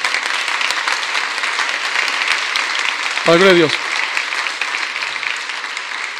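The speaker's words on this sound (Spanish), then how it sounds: "aplauso a mi querido pastor" A church congregation applauds its pastor in a steady, dense wash of clapping that fills the room throughout, with one voice briefly calling out over it midway.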